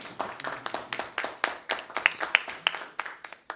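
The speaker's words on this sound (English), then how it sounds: "And I think we deserve a round of applause for that." Audience applause at a press conference, a dense burst of many hands clapping with sharp individual claps standing out, steady and fairly close for several seconds.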